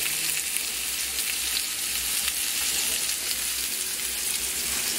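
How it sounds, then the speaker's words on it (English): Country style pork ribs fry in a pan with a loud, steady, close sizzle that continues unbroken throughout, with no one speaking. "Toby's cooking us breakfast. What is this? Country style pork ribs."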